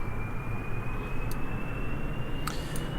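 Six jet engines roar steadily at max power in Kerbal Space Program, a constant dense rumble with a thin high whine and a few brief clicks, with no talking.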